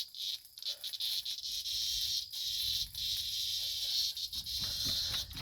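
A cicada buzzes as a steady high-pitched drone with pulsing swells, moderately loud and close, outdoors in a garden with chickens and cats around.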